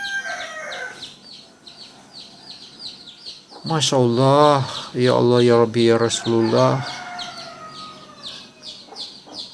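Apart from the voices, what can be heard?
baby chicken chirping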